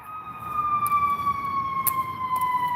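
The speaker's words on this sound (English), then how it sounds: "No, it's an ambulance." Ambulance siren wailing steadily on a public street, a sustained rising-and-falling tone heard clearly throughout with traffic noise beneath.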